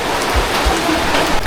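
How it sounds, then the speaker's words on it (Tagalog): Rain falls steadily outdoors onto muddy ground, a dense, even patter with no pause and no voices. "hindi pa tumila yung ulan"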